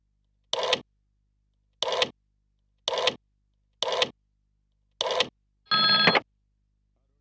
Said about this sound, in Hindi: अब अरुण को फोन करो।